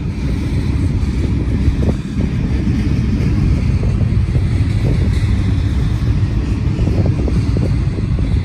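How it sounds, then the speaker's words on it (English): Steady, heavy wind buffeting a microphone, a continuous low roar with gusty rumbles throughout and no voices. "Ooh, it's windy."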